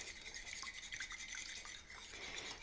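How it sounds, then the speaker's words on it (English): A whisk stirs egg and lemon juice together in a bowl, a soft, continuous swishing with small clicking ticks against the bowl, faint and close, with no voices. "after I'm whisking the egg, now we need the third component for the breading"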